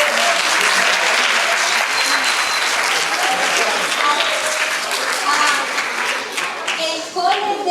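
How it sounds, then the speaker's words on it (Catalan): Loud audience applause after a secondary-school theatre play of Little Red Riding Hood, a dense roar of many hands clapping close by, with some voices and cheers mixed in before it thins toward the end. "fort aplaudiment."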